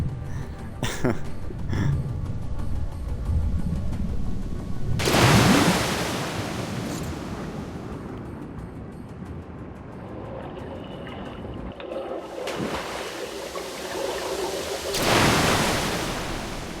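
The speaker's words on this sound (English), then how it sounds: "Is anybody just sloshing around in the water, really?" Water sloshing in the video game Metro: Last Light, broad rushing surges that swell and fade in waves, loud at times, with a softer stretch between the bursts.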